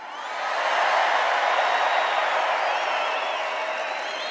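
A large indoor rally crowd in an Arizona arena packed to the rafters cheers and applauds loudly, a dense sustained roar of clapping and shouting that swells in and holds steady.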